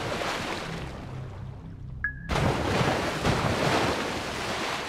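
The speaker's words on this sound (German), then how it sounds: "Hier sehen wir sogar die Wasserbombe ins Wasser fallen." In the naval warfare game Destroyer: The U-Boat Hunter, a depth charge drops into the sea: steady surf and wind wash give way to a brief tone, then a sudden loud splash-rush of water that stays dense and noisy.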